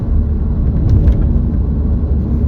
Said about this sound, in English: No, that car is still behind us.